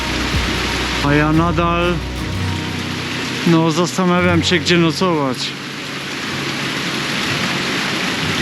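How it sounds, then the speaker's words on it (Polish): Steady thunderstorm rain hissing on surfaces outdoors in the Swiss mountains, continuous and fairly loud, with someone speaking briefly over it. "To już trzecia burza, słuchajcie."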